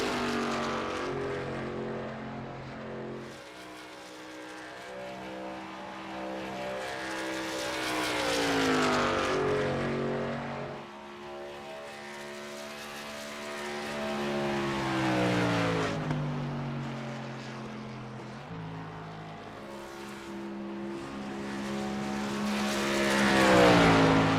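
Race trucks in a racing video game at Motegi drone past in repeated waves, engine tones rising and falling as each passes, loud and continuous with no talking.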